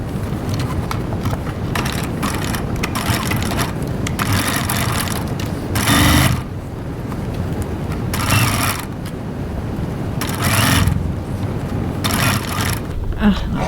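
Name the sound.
sewing machine stitching a seam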